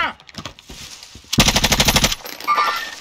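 Gunfire in the Call of Duty Warzone video game: a loud, rapid burst of automatic fire lasts under a second, with scattered game sound effects before and after.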